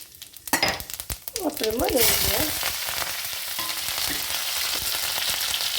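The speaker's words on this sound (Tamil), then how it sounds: "அதுக்கு கடுகு போட்டுட்டு கொஞ்சம் சின்னதாக்கிட்டேன் கேஸை. அப்புறம் இந்த ஜீராத்தையும் போட்டாச்சு." Mustard seeds and cumin sizzle in hot oil in a pan on a gas stove, a steady bright hiss that swells after a few pops and stirring sounds, with someone speaking briefly at the start.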